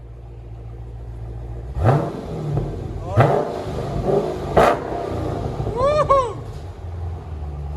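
A 2020 Dodge Challenger Scat Pack with a 6.4L HEMI and Jones dual exhaust barks through several sharp, loud revs spaced a second or so apart, with a person whooping between them.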